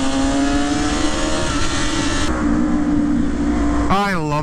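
A Kawasaki Ninja motorcycle engine roars steadily with a booming, reverberant exhaust note in a tunnel, then revs sharply near the end, the sound echoing off the enclosed space.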